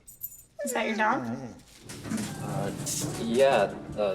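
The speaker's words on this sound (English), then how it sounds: "Is that your dog?" A dog gives a few high, wavering whimpers up close, then people talk over a busier background.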